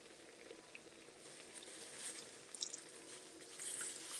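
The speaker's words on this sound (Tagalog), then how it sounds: "So, lagyan natin yung suka. Konti lang." Apple cider vinegar poured in a thin, quiet stream into a pot of spicy Ilocano paksiw with saluyot, a faint soft trickle with light splashes and no talk.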